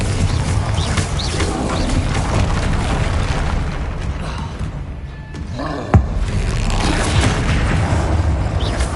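Repeated fiery blasting-spell explosions from the game Hogwarts Legacy, dense and loud rumbling booms that roll on continuously with a sharp crack near the middle.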